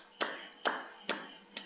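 Four crisp, evenly spaced claps ring out faintly in a classroom after a group discussion, each a sharp isolated smack with quiet gaps between them.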